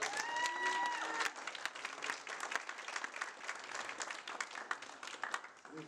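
A church congregation applauds in a steady, dense wash of clapping that fills the space, continuous and fairly loud before tapering off at the end.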